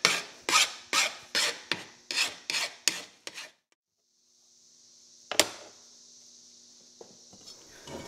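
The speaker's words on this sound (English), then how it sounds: "Now we just got to do the two ends and deburr these real quick." A hand file deburrs metal edges in about nine rhythmic rasping strokes, then stops; a sharp metallic clank and faint shop noise follow.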